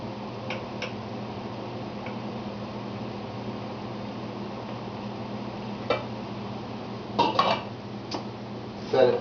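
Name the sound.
loading squash cakes into a pot steamer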